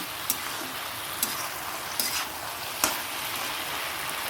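Ground mustard paste with a little water sizzles and fries in a pan, a steady close crackle broken by a few sharp ticks of a utensil against the pan, with no talking.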